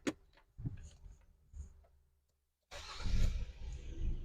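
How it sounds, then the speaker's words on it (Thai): An MG Extender pickup, started with a smart key, turns over after a few faint clicks and a short pause, then settles into a close, steady mid-pitched engine idle. "เราจะสตาร์ทรถนะคะ ด้วยกุญแจอัจฉริยะตัวนี้ค่ะ"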